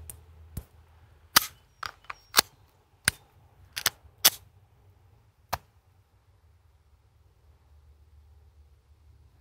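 Sig Sauer P365 pistol fired at a range: about eleven sharp, distant-sounding gunshots in uneven bursts, some in quick pairs, with quiet gaps between and a final lone shot, no talking.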